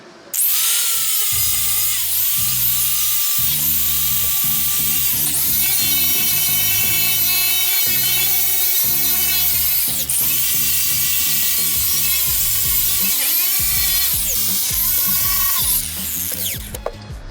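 An angle grinder strips rust from a Grand Wagoneer's body down to bare metal, a loud continuous grinding whine with a few brief dips as the disc shifts across the panel.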